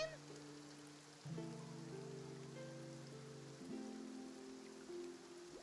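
Steady rain falls in Fontaine in the game Genshin Impact, a soft continuous patter beneath sustained tonal game music.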